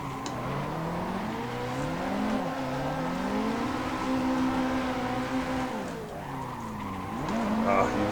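Tires squeal continuously as a car drifts through tight transitions on the Mega Tamada WDT Street pack track in Assetto Corsa, the pitch rising and falling over a loud, droning engine note.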